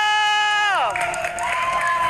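Arena crowd at an MPL Indonesia esports match cheering and clapping, a broad noisy roar that follows a sustained sung or shouted tone sweeping downward.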